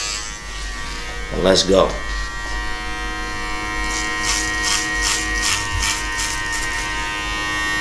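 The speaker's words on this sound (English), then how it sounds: "I'm taking the Babyliss, putting the 8 clip on," A Babyliss electric hair clipper with an 8 guard hums steadily while cutting hair during a drop fade haircut, buzzing continuously up close, and someone speaks briefly near the start.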